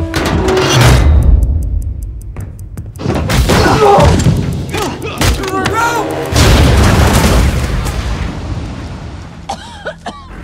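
A film scene's grenade explosion lands as a loud boom amid action chaos, with speech over a heavy, dense mix of blasts and debris.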